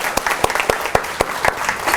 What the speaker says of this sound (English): We are clapping for ourselves, not for him.